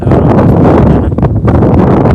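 Strong wind sweeps across open village farm fields, buffeting the microphone with a loud, steady low roar that lasts throughout, easing only briefly before surging again, with no voices present.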